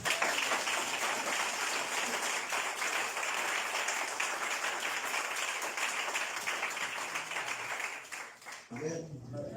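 A church congregation clapping and cheering for Jesus during a service, steady sustained applause that fades slightly before a voice breaks in at the end.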